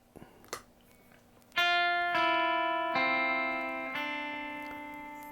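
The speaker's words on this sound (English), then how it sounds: "it's a nice little harp sound," Keyboard playing a harp-like patch, a faint picked note or two, then four sustained bright chords struck about a second apart, each ringing and slowly fading, close and clear with no talk.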